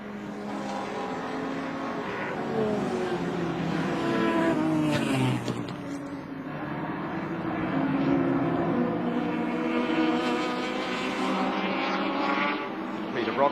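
Small touring race cars, including Allan Moffat's and George Fury's, race at Adelaide International Raceway in the 1983 ATCC round, engines droning and swelling as they pass, with commentary running over the top.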